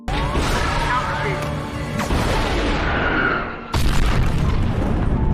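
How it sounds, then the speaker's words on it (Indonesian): Fighter jet named Phoenix exploding after striking a flock of birds, a loud continuous roaring boom and crash that dips briefly then surges again with another blast, dense and close throughout, with a voice faintly underneath. "pesawat Phoenix meledak saat menabrak sekawanan burung"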